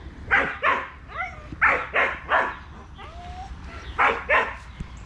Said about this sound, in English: Sorry, neighbor's dog's out.